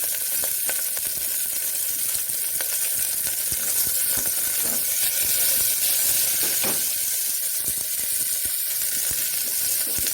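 Chopped onion and garlic fry in a pan for a chicken soup, giving a loud, dense, continuous sizzle up close, with occasional clinks and stirring noises mixed in.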